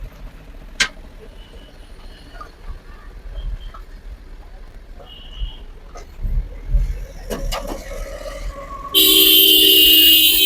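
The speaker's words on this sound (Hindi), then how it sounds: "गाड़ियों का शोर होता रहता है।" Busy roadside traffic passing a shop, with scattered car horn toots and engine noise at varying distances and a loud burst near the end.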